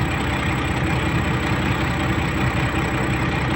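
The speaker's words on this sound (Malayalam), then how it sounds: "Tata bus turbo charged engine" A turbocharged diesel engine on a Tata bus idles with a steady, continuous low drone and hum, close and even throughout, with no voices.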